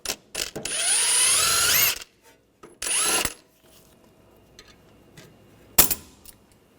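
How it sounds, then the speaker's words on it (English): An impact gun or power ratchet with a 24mm socket spins off a tie rod jam nut on a 2013-2019 Ford Escape. Two loud whirring bursts come close by, followed by a sharp metallic clank and faint clicks. "I'll take the jam nut off, use a 24mm socket."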